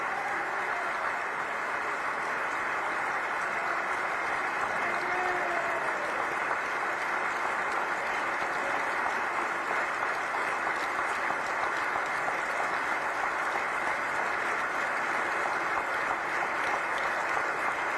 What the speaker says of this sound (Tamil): முதலமைச்சர் யோகி ஆதித்யநாத்ஜி அவர்களுக்கு நீங்கள் அனைவரும் எழுந்து நின்று உங்களுடைய கரகோஷத்தை தர வேண்டும் என்று நான் உங்களை பணியோடு கேட்டுக்கொள்கிறேன